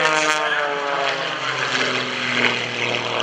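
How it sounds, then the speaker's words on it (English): A Wolf Pitts aerobatic propeller biplane, specially reinforced and highly modified, rolls at the Greenwood Lake airshow, its engine roaring loud and continuous with a throbbing propeller drone that shifts in pitch through the manoeuvre. "Greg Connell rolling this Wolf Pits around"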